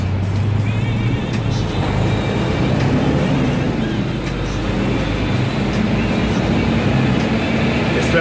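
Heavy Nashville road traffic heard from inside a flatbed truck cab: a continuous loud rumble and tire roar from the road, steady throughout with no clear breaks.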